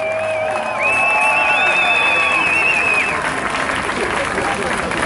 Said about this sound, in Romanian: Vlad, să-l aplaudăm pe Vlad!